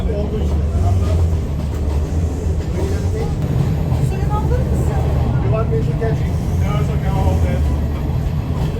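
Steady rumble and clatter of a Sri Lankan train running on the Kandy line, with constant low rolling noise throughout, and voices talking faintly over it.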